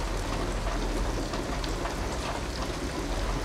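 Steady rain falls across an outdoor scene in the video game Detroit Become Human, a dense, even hiss of drops that stays at one loud level throughout with no talk over it.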